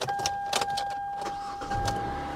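A tornado-damaged salvage car with 70,000 miles on it cranks and fires up, giving brief bursts of engine noise with a low rumble near the end, under a steady high electronic chime from the dashboard; no one talks.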